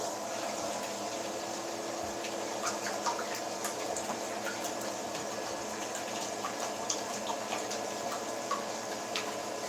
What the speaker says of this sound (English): sorry about the pump noise or the water noise